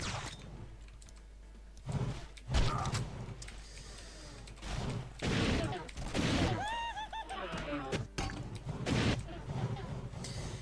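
In the Doom Reelism video game, aliens burn from a flame weapon, giving shrill warbling cries and crackling bursts among gunfire-like clatter, with a voice talking over the game sounds.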